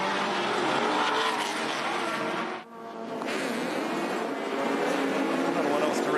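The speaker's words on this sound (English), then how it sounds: "A little bit of wheel spin from the Mazdas." Mazda production race cars roar off the start line at Hidden Valley, a loud continuous wall of engine noise with a brief dip, while a commentator talks over it; the wheel spin itself is not distinct.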